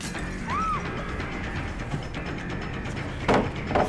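Wooden pallets being slammed down in the Dead by Daylight video game, a couple of sharp crashing thuds near the end over quiet game ambience, with an earlier brief whooshing effect.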